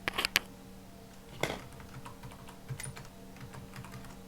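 Computer keyboard keys clatter in short bursts, with a quick flurry of taps at the start, then scattered, lighter keystrokes at a steady pace, close and clear with no talking.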